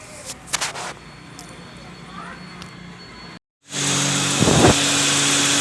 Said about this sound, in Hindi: गाड़ी स्टार्ट कर दी है। गैस भी फिल कर रहे हैं। आप देख सकते हैं कंप्रेसर चल रहा है